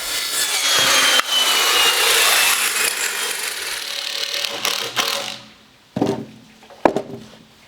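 A jigsaw cuts off the ends of pieces while an outdoor kitchen is being built, a loud, continuous buzzing saw run for about five seconds that stops abruptly and is followed by a few sharp knocks.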